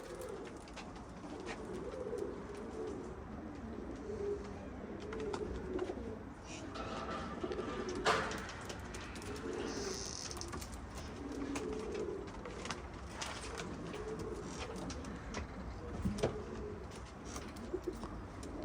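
Pigeons coo softly and repeatedly in the background over a steady hum, with a few brief chirps and clicks scattered throughout.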